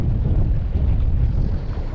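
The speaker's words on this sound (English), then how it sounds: "it's so windy and choppy right now" Strong wind blows across choppy water near a fishing kayak, a loud low rumbling buffet of gusts against the microphone with no other distinct sounds.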